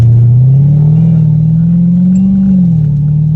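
A straight-piped Dodge Hellcat Redeye engine revs up and holds a loud, deep, raspy drone close by, rising slightly and then easing back down near the end.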